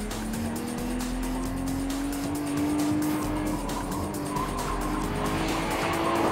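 Street car tires squeal steadily on the Tokiko skid pad, a sustained, slowly rising screech over engine drone as the car corners hard at a track test, with no talk.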